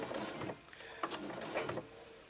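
Home sewing machine running slowly, starting a few stitches in from the edge of a small fabric bag and reversing first, giving short bursts of mechanical whirring and clicking, close and moderately loud.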